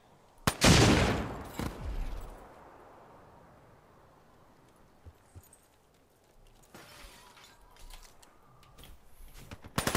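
Weevil rifle fire in a Black Ops 3 Search and Destroy match: a loud close burst of rapid shots early on, then quieter scattered shots and game noise, with another burst near the end.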